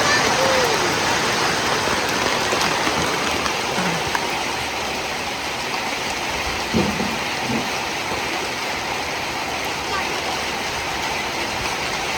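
Steady rain falling outdoors, a dense even wash of droplets that holds constant and fairly loud throughout, with a few faint knocks beneath it.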